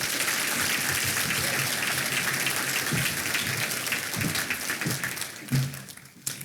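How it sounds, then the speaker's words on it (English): Sustained applause from an audience at the 2022 ATHENA Award ceremony of the Youngstown-Warren Regional Chamber, greeting a group of women nominees. Dense, steady clapping fills the room, fading slightly toward the end, with a few nearby claps standing out. "Can we please give a round of applause to these ladies?"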